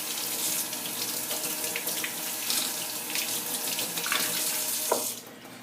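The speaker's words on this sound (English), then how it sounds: "I usually let a little water on top of the soap first before I soap it up" A tap runs steadily onto a bar of lanolin shaving soap, making a continuous close hiss and splash that thins out near the end.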